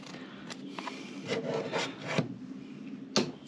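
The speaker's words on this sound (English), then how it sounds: "we just take a hive tool and we scrape all that off." Dirt is scraped off a block of beeswax with a hive tool in short, rasping strokes, irregular and close, some strokes ending in sharper scratchy clicks.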